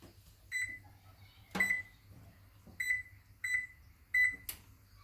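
Oven control panel beeping while preheat is set to 325 degrees: short, clear electronic beeps repeat about five times at uneven intervals, with a soft low hum underneath and no talking.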